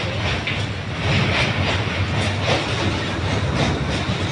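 A train rumbles at speed across the Hardinge Bridge at Paksey, with a steady roar and rhythmic clickety-clack from the wheels, loud and close, with no voices.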